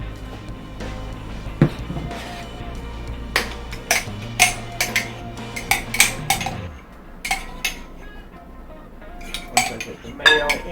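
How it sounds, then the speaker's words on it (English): Mayonnaise being added to chicken salad in a bowl: repeated clinks and taps of a utensil against the bowl in an irregular rhythm, with a low hum under the first half and a voice now and then. "I'm going to go ahead and put the mayo in."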